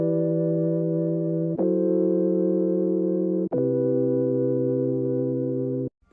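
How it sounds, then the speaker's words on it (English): Detuned sine-wave synth chords for an R&B sample, one chord inverted down an octave: three long sustained pure-tone chords change at even intervals, steady and clean, with no talking. "But I inverted this one down an octave, so now it sounds like this."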